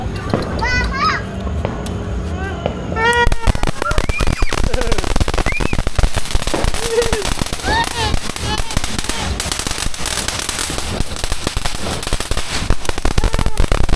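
Firecrackers burst in dense, rapid crackling volleys on New Year's Eve at a Filipino family gathering, close and loud, while children shout and talk excitedly throughout.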